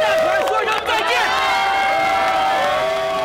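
A large audience at a film event for the movie The Island cheers and shouts, a dense, loud crowd roar with high-pitched screams running steadily throughout.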